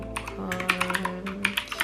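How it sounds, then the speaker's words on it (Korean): Mechanical keyboard with blue clicky switches being typed on, connected to an iPad mini, giving a quick, loud, crisp run of clicks in an irregular rhythm close by, with no talking. "한번 실제 타이핑하는 모습을 보여드릴게요"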